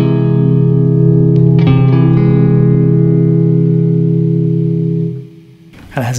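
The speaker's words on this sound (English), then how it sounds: "So that's our augmented chord there." An augmented chord rings out on a guitar through effects and reverb, sustaining loud and steady for about five seconds before fading, followed by a brief new strum at the end.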